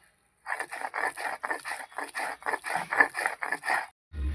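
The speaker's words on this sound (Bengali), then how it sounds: "এই যে আদা জিরেটা বেটে নিচ্ছি।" Ginger and cumin being ground into a paste on a stone, a run of about fourteen rhythmic rough scrapes back and forth, close and fairly loud, ending with a dull thump.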